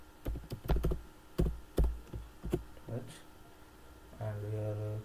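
Code typed on a computer keyboard gives a series of distinct thumping keystrokes, close and fairly loud, with a voice speaking briefly in between and at the end.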